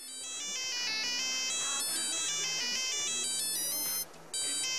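In GTA IV, a mobile phone ringtone plays as a bright, repeating electronic melody that rings continuously and loudly, with one short dip near the end and no voices.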